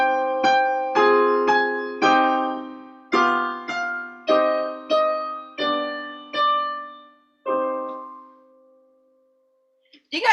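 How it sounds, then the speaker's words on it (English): A piano plays a song in a sequence of sustained minor chords in a steady rhythm, each ringing and fading, ending in silence before a brief noise at the end. "So if I was to play the same exact song with minor chords,"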